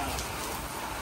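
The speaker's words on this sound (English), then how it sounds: "that is some serious rain right there." Heavy monsoon rain pours down during a storm in Mesquite, Nevada, a dense, loud, unbroken wash of hiss and patter close by for the full second.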